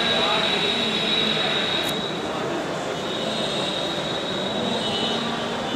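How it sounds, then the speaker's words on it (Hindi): Lucknow Metro train approaching a station platform, a steady loud broadband rumble and hiss with a high whine throughout, with people talking in the background. "वो मेट्रो रेल दिख तो रही है उधर।"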